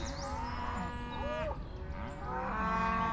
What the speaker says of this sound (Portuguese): Os bovinos de raça mirandesa são animais de grande porte, são compridas, largas e bem musculadas.